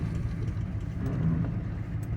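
An old car engine running on its first start in 20 years, a steady low rumbling idle held close and constant throughout with no talk.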